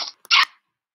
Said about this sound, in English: Dog button.